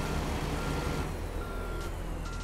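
A truck in American Truck Simulator gives off steady reversing beeps over a loud low engine rumble, with a faint hiss of air brakes, close and continuous with no talk.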